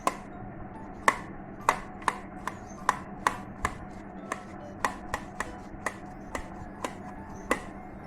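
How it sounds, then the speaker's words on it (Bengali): A knife chops through half a cucumber in a steady, even rhythm of about sixteen crisp, close strokes, with no one speaking. "আধাখানা ক্ষীরা দিয়ে এটাকে ভালো করে ধুয়ে কেটে নেব।"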